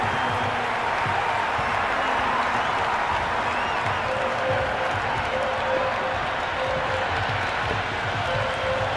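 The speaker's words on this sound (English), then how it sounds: "The crowd are loving every minute of this match." A stadium crowd cheers and roars during a Punjab Kings versus Gujarat Titans cricket match in the video game Cricket 26, a dense, sustained wash of crowd noise that stays loud and steady throughout.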